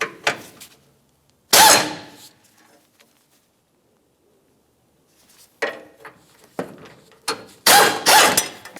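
Ratchet work removing the four 10mm-headed bolts that mount the radiator support beam on a 2010-2013 Ford Transit Connect, heard as loud bursts of clicking and clattering separated by a quiet pause.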